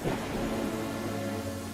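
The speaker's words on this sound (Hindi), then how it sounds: "मैं बस बारिश रुकने का इंतजार कर रहा हूँ।" Heavy rain and a deep rumble of thunder during a storm, a steady wash of rainfall with a low rolling boom building underneath, loud and close, with no voices.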